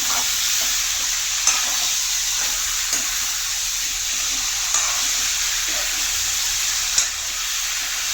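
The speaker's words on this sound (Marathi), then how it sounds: "आता हे चांगलं मिक्स करू." Chicken leg curry sizzles steadily in a pan while it is stirred, with a constant close frying hiss and a few soft scraping knocks from the spoon every second or so. No voices.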